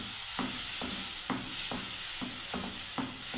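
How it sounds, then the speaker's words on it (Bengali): Masala spice paste thinned with a little water frying in a pan for an eggplant curry, a steady close sizzle broken by about eight regular stirring scrapes at an even rhythm. "দেখুন ভালোভাবে মশলাটাকে আমি ভেজে নিচ্ছি।"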